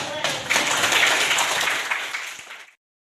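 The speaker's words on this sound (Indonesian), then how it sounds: "Tepuk tangan." A burst of applause from a crowd, steady and fairly loud for a couple of seconds before cutting off abruptly.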